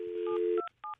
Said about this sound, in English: let me try to call Shorty Shane.